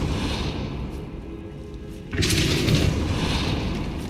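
A Depulso spell is cast in Hogwarts Legacy: after a low rumbling backdrop, a sudden loud whooshing boom bursts in midway and rings on as a sustained blast.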